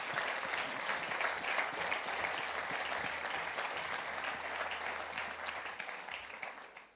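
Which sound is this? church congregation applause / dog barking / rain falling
church congregation applause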